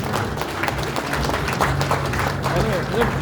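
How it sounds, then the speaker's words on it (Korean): Audience applause at a Tongyeong High School alumni association gathering, a steady dense wash of clapping that holds for the whole stretch, with voices mixed in. "큰 박수 기다해 주시기 바랍니다"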